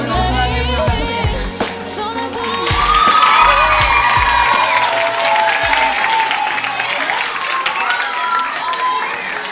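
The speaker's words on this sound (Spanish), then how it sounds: "vamos a darle un aplauso bien." An audience at a festival singing contest breaks into applause and cheering, with whoops and children shouting over steady clapping that builds and stays loud.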